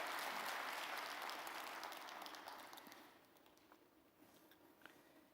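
A church congregation applauds during a Korean year-end Sunday worship service, a dense wash of clapping that starts full and gradually thins and fades out to a few scattered claps.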